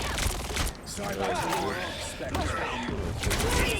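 Rapid bursts of gunfire from the video game Marvel Rivals crackle through a hectic match, repeated volleys playing under excited talking from players.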